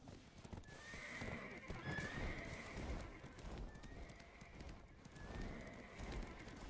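A horse in a video game neighs with repeated whinnies and the steady clip-clop of hooves. The sound is faint and comes from a battle scene, with faint voices in the background.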